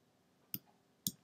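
An Enter key on a computer keyboard is pressed twice, giving two sharp, close, quiet clicks about half a second apart against faint room noise.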